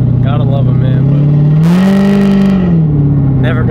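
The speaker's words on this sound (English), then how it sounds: "never gonna get tired of this exhaust" A 5.0 sports car exhaust revs up loud and close, the deep engine note swelling and holding for about a second before settling back to a steady idle, with someone talking over it.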